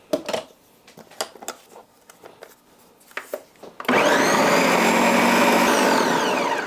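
A countertop blender whirs loudly and steadily, pureeing a thick birria sauce of chiles loosened with beef stock. It starts abruptly after a few seconds of clinks and small handling noises and keeps running to the end.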